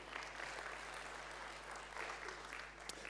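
An audience applauds the technical crew at an energy-transition awards ceremony, a steady, moderately distant wash of clapping that holds evenly for the full few seconds without any voices over it.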